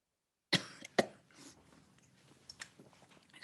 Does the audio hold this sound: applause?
no